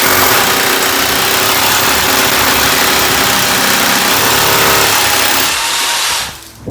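A hammer drill in hammer mode, pressed against a wall, bores holes for washbasin anchors with a loud, continuous, rattling whine that runs for about six seconds and then stops.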